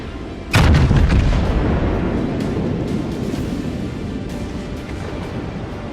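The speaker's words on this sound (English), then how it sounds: "That's the Missouri or the Neptune shooting at me from the behind." Battleship Missouri or Neptune fires a heavy naval salvo from behind in a warship game: one sudden, loud, deep boom about half a second in, then a long rumbling decay over steady engine and sea noise.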